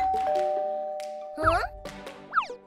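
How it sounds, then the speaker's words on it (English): A two-tone ding-dong doorbell chime in a Roblox Rainbow Friends stop-motion paper animation scene, ringing out clearly with sustained tones, followed by brief springy sound effects. "There was a doorbell."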